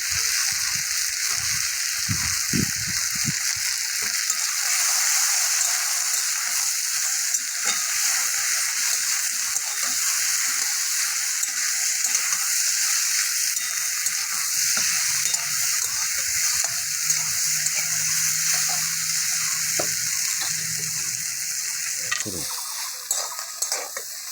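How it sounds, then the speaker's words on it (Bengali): Taro stolons fry in a pan with turmeric and a split green chilli, making a continuous close sizzle with occasional stirring scrapes and clicks over a long, steady stretch. "কচুরলতিটা ভাজা হয়ে গেছে।"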